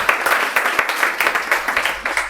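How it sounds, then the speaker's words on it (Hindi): A small group celebrating a student's Bihar Police exam result bursts into dense, lively applause, many hands clapping close by without pause. "ताली लगाइए जोरदार"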